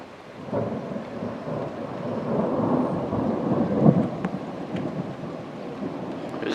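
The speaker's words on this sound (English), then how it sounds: "You can hear all the thunder, man." A long, deep roll of thunder rumbles during a thunderstorm with cloud-to-ground lightning in Florissant, Missouri, building gradually to a peak and then fading over steady background rain noise.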